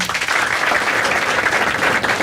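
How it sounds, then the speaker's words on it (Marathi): A live comedy show audience breaks into dense, steady applause that stays loud and unbroken from start to finish, with no voices standing out. "हा एकदा टाळ्या वाजवायच्या आणि सगळ्यांनी"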